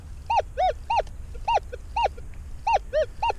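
Metal detector in prospecting mode sounding a target tone, a series of about ten short, repeated rising-falling beeps in quick rhythm, clear and close over quiet background.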